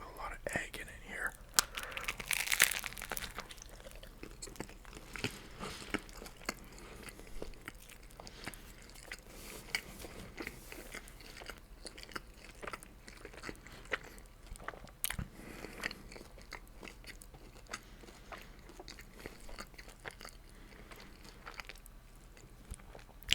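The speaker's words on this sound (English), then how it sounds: "Here, I get a big bite with a lot of egg in it here." Close bites and slow moist chewing of a bread and egg sandwich, soft crunches and crinkles repeating over a quiet background, with faint whispered speech at times.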